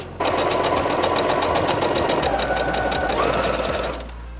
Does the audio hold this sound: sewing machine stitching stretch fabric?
yes